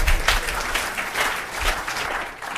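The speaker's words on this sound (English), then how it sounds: "Let's give Mike another round of applause" An audience applauds a speaker at a talk on saving money on gas, with a burst of loud, close clapping from many hands that swells and eases in waves.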